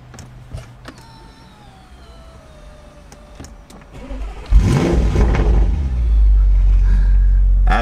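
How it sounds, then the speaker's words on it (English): Audi RS6 Stage 2 tuned to about 700 bhp with an Armytrix exhaust fires up and is revved, a loud engine roar building midway and holding strong to the end after quieter clicks and a whirring motor. "It does like a little proper big rev as you start."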